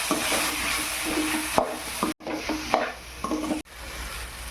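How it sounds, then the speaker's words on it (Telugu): Fried potatoes being stirred with chili powder in a pan, repeated spatula scrapes and knocks over a soft steady sizzle, with two brief gaps in the sound. "ఒక స్పూన్ కారం వేసాక కలుపుకోవాలి"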